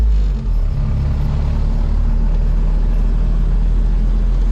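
An off-road vehicle being street tuned, its engine a loud, continuous low rumble with a slight dip near the start as the throttle is eased and varied, heard close up with no speech.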